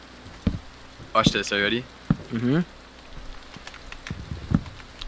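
Rain falls steadily in a Minecraft SMP game, a constant soft hiss of drops in the background while a voice speaks briefly over it and a few light taps sound near the end.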